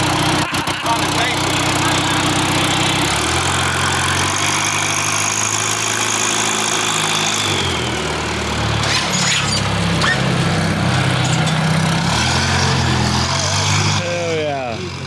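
A custom 1989 Toyota pickup engine idles steadily throughout, a loud continuous rumble with a shifting low hum while a voice talks over it in the rain.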